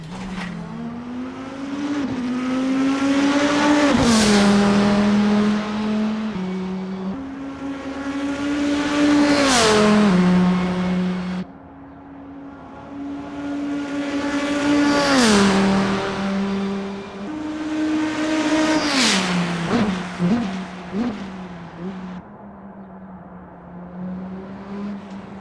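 Classic race car engines from a GT Legends mod for Assetto Corsa, loud and close, climbing in pitch through repeated high revs, then dropping sharply with each upshift, several full acceleration runs with brief lulls between them.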